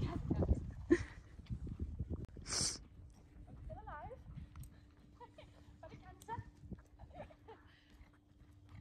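Hooves of a horse ridden bareback in an outdoor arena, giving soft irregular clip-clop thuds that run through most of the stretch under occasional distant voices and background noise.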